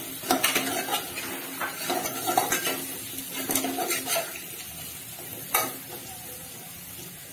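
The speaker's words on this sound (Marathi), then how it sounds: "शेवग्याच्या शेंगा अशा छान तेलामध्ये भाजून घेतल्या ते छान लागतात।" Chopped drumstick pods sizzle as they fry in oil in a pan. A utensil stirs and scrapes against the metal in irregular clinks over a constant close frying hiss, with no talking.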